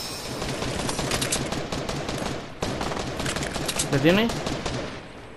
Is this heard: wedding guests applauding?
no